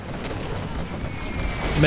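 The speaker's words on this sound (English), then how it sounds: "Artillery now coming through." Artillery barrage in a real-time strategy match, a dense rumbling wash of distant booms and crackling impacts rolling continuously and swelling slightly toward the end.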